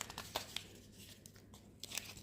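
Paper tears and crinkles in short, close bursts, a few rips and rustles spread over a couple of seconds, fairly quiet with no talking.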